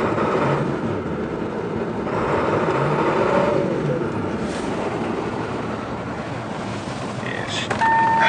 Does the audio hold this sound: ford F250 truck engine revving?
yes